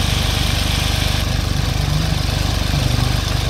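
A Smart Fortwo coupe engine idles close by with the engine cover open, a steady loud pulsing chug with an even rhythm and no talk.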